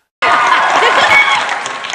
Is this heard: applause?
yes